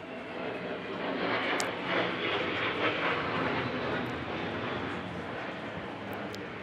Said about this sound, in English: Avro Vulcan XH558 is with us at the Bournemouth Air Festival